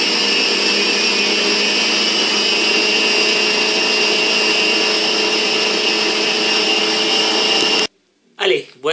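An electric mixer whips ganache cream at full speed, a loud steady whirring drone that runs for about eight seconds and then cuts off abruptly, followed by brief handling noises.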